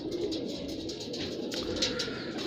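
Mirab pigeons coo in a steady, continuous murmur, fairly close and moderately loud, with soft overlapping calls and no voices.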